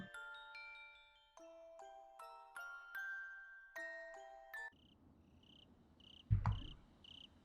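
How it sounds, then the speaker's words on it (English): In the visual novel game Higurashi When They Cry, after a few soft chiming tones, crickets chirp faintly in short, evenly spaced pulses, with a brief thump near the end. "I could hear the faint sound of crickets chirping."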